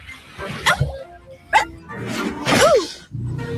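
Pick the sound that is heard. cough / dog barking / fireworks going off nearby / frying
dog barking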